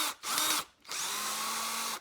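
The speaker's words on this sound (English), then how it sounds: "Just going to see if we can't drive this out just by putting screws in on top" A power drill driving screws into a wood plug stuck inside a hole saw, whirring loudly and close in two bursts: a short spin, a brief pause, then a longer steady run.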